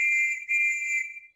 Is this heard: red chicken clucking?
no